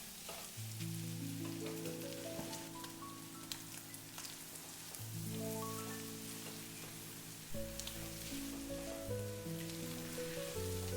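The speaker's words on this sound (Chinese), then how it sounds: "接下來把炒好的杏鮑菇、雞蛋直接回鍋，快速翻炒均勻，把杏鮑菇和雞蛋炒出蒜香味" King oyster mushrooms and eggs tossed in a hot wok with garlic, a steady frying hiss with occasional stirring clatter, partly masked by louder background music.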